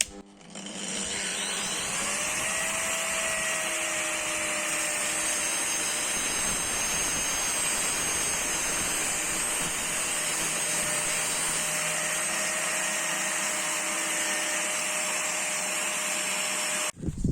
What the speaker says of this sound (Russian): Берем, зажимаем пассатижками, включаем УШМ